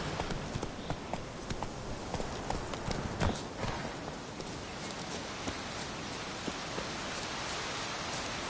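Horse hooves gallop in The Witcher 3, a steady rapid clip-clop running throughout over a dense hiss of rain-like noise, with no voices.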